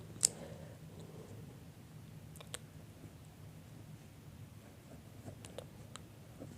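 Pen writing on paper, faint and close, with quiet scratchy strokes and a few sharp ticks scattered across a low background hum.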